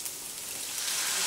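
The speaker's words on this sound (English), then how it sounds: "Listen to that sizzle." Taco filling sizzles loudly in a hot pan after liquid is added, a dense, bright hiss that runs continuously and grows slightly louder toward the end, with no talking.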